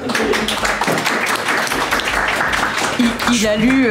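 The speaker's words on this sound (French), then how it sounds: "Ça, c'est un allié, on peut l'applaudir" Several people clap briefly among a small group at a tabletop role-playing session, the scattered claps running under lively overlapping talk and laughter.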